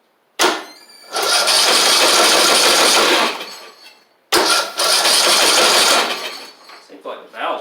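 Husqvarna YTH2042 riding mower with a new starter and a jump box hooked up: two close, loud start attempts, each a quick crank catching into a few seconds of running engine before dropping off, with a voice briefly heard afterward.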